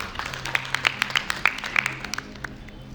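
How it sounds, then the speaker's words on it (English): A room full of people applauding after a community gathering's stage event, a dense patter of many hands clapping at moderate loudness with sharp individual claps standing out, no voices over it. "Please clap for yourselves."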